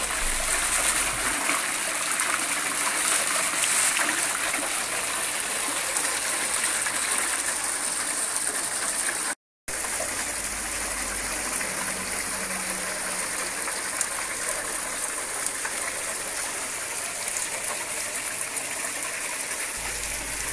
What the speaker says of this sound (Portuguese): a roda de água também está a girar a menor velocidade, já que a quantidade de água que cai na roda é a mesma.